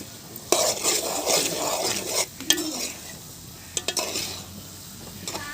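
A spoon stirs okra and tamarind stew in a pot over a wood-fired stove, scraping and clinking against the metal in irregular strokes over a soft sizzle, with brief pauses between stirs.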